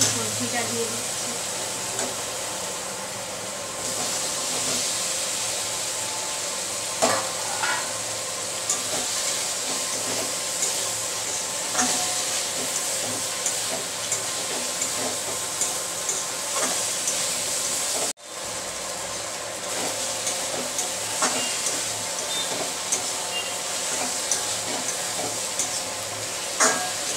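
Papaya vegetables fry in a spice paste, producing a steady sizzle and hiss with scattered stirring clicks and scrapes, interrupted briefly by a short dropout midway, and a voice heard at times.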